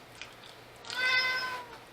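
A cat meows once, a drawn-out mid-pitched cry rising then fading, fairly close in a quiet room.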